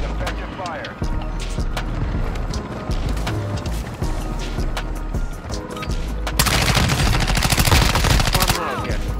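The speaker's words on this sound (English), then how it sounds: "You are taking effective fire." Rapid automatic gunfire in a military shooter video game, with bursts of shots throughout that swell into a dense, loud volley in the final seconds, while radio voices and players talk over it.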